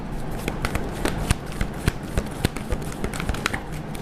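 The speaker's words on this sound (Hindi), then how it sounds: "मेमोरीज ऑफ लव, तीन कार्ड लेंगे हम" Tarot cards are shuffled by hand, a quick run of crisp flicking riffles and soft taps in a steady irregular rhythm, close and fairly quiet, with no talking.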